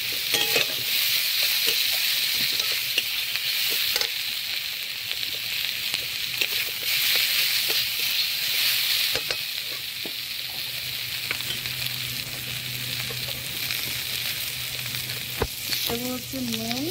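Potatoes added to hot oil already spiced with fried ginger and green chilli, sizzling and frying steadily while being stirred, with scraping and clatter from the pan near and loud throughout.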